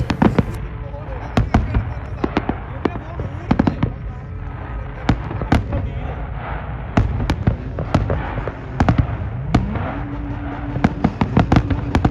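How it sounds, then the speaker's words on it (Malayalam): Fireworks burst repeatedly over the desert at the Liwa Festival in Abu Dhabi, sharp loud cracks and booms arriving in irregular clusters over a crowd murmur, with someone talking throughout. "എന്നെ കഴിയാവുന്ന രീതിയിലൊക്കെ ഞാൻ ഈ ഫയർ വർക്ക്സ് എടുത്തിട്ടുണ്ട്"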